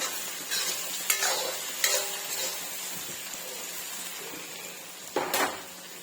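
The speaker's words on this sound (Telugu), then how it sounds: "హై ఫ్లేమ్లోనే పెట్టి కొద్దిసేపు అయితే వేయించుకోవాలి కాకరకాయ ముక్కల్ని." Bitter gourd pieces frying on high flame, a steady sizzle with stirring broken by a few sharp spatula scrapes against the pan.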